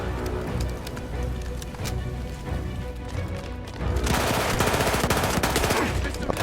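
Rapid, dense weapon fire from the World War I shooter Battlefield 1, a loud continuous clatter of shots that swells even heavier in the second half, with no voices over it.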